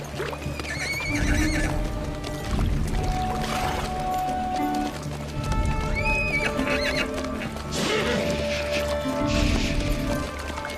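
Horses whinny and neigh several times at close range, mixed with clip-clop hooves and water sounds as they stop to drink during a historical drama scene.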